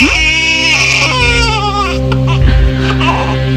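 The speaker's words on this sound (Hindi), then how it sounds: "ये तो बच्चे की रोने की आवाज है।" Staged baby cry from a school play performance in Jaipur, a loud sustained wailing with rising and falling pitch that carries through the whole moment, with a low hum underneath.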